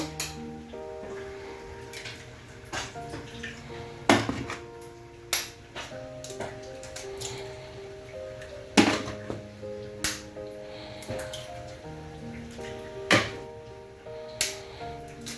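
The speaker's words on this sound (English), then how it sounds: "so I'm going to break the egg now" Eggs being cracked one after another for an egg stew, a series of sharp taps and knocks at irregular intervals over soft music in the background.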